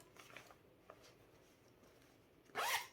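A zipper on a fabric project bag printed with bees is pulled open in one quick, close rasp near the end of an otherwise quiet moment.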